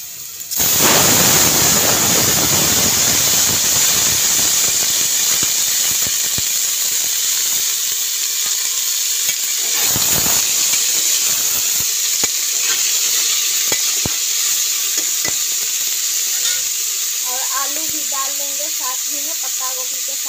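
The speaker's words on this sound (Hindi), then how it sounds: "पत्ता गोभी के साथ ही में आलू भी डाल के इसको हम भून लेते हैं।" Cabbage and potato fry in a pan with onion, giving a constant loud hiss and sizzle with scattered clinks of stirring and faint clatter near the end.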